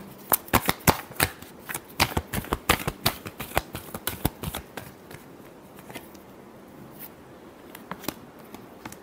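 A deck of playing cards is riffled and shuffled in a tarot-style reading, giving rapid crisp flurries of snapping clicks that come in bursts, thin out, and end with a few isolated taps.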